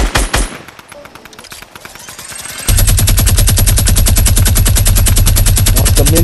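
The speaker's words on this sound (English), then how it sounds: "Once the minigun come out, it's game over, bro." Minigun in the video game Fortnite firing a loud sustained rapid burst of shots that kicks in partway through, following a few quieter scattered shots and gameplay noise.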